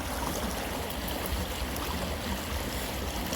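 A fast-flowing stream rushes nearby in a full, constant wash of water with no pauses and no voices.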